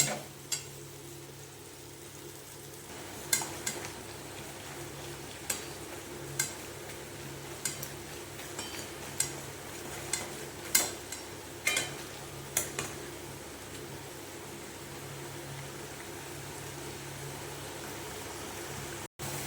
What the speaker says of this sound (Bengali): এই যে গুলিয়ে রাখা পেস্টটা এবার এটা দিয়ে ভালো করে কষে নেব একটু হাই ফ্লেমে কষিয়ে নেব